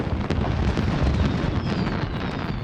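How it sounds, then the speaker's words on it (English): Fireworks burst over a Paris balcony in the Hitman game, a dense continuous roar of booming explosions and crackling pops filling the whole moment, loud and close. "So I'm going to trigger the fireworks to get them both out here on the balcony."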